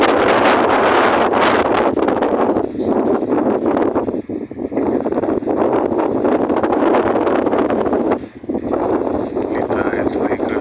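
Strong gusting wind buffets an outdoor microphone during a pigeon flight, a loud continuous roar with brief lulls near three, four and eight seconds.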